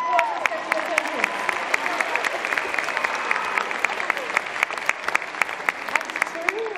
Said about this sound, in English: Hey, round of applause for sketchy essentials.